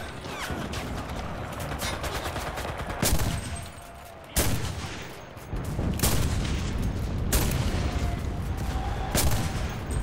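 Gunfire in the video game Enlisted during a Berlin battle: loud bursts of automatic fire and sharp single shots crack repeatedly in close succession, with short lulls between volleys and a noisy combat background.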